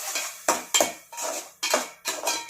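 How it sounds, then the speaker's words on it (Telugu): A metal spoon stirs green chilies, curry leaves and coriander in a pot for okra pulusu, giving about six quick scraping clinks in an uneven rhythm, close and clear with no talk. "పచ్చిమిర్చి, కరివేపాకు, కొంచెం కొత్తిమీర వేసి బాగా మిక్స్ చేయండి"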